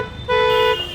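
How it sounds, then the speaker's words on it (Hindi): A single short, close honk from the horn of a Tata Nexon Pure Plus car, a bright steady tone lasting about half a second with nothing else around it. "टाटा की गाड़ी में हॉर्न चेकआउट कर सकते हैं"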